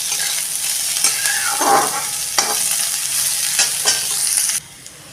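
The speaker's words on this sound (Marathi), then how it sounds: "कांदा हा फक्त मऊ पडेपर्यंत परतून घेऊया." Chopped onion sautéing in oil in a pan, cooked until soft but not browned, with a continuous close sizzle and several scraping strokes of a spoon stirring it, no voices.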